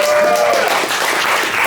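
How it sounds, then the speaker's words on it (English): Brief, loud burst of audience applause at a comedy show in Reno, a dense wash of clapping and some crowd noise with a faint tone at the start. "let's give him a quick round of applause"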